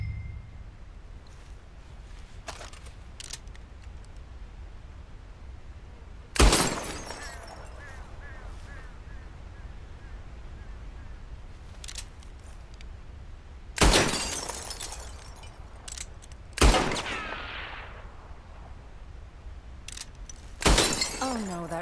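Four sharp, loud gunshots crack out at uneven, widely spaced intervals during target shooting in Red Dead Redemption 2. Each is a sudden burst with a short ringing tail over a quiet outdoor background.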